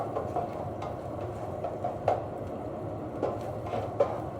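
A constant, loud whooshing hum of kitchen hood fans runs throughout, with occasional light clinks of cookware on top.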